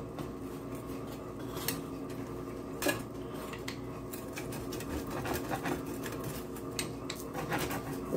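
A pizza cutter scraping and rolling across pizza inside a Lodge cast iron pan, giving faint repeated metallic clinks and rubbing scrapes over a steady low background hum.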